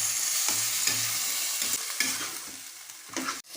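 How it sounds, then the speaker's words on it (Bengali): Oil-coated chicken meat is stirred and fried in a pan, with rhythmic scraping strokes over a constant sizzle and a sharp clatter near the end, no speech. "তেল দিয়ে মাখানো মাংস। ভালো করে নাড়িয়ে নেব।"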